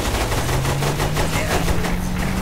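Rapid automatic gunfire in the video game Saints Row 3, a dense, continuous rattle of shots that fills the whole stretch at steady loudness, with a low engine-like hum running underneath.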